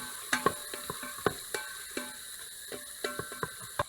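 Ginger, green chilies and chopped onions stir-fried in a pan for vegetable pulao, heard as a scatter of scraping, clicking stirring strokes over a faint, steady sizzle, close and fairly quiet, with no talking.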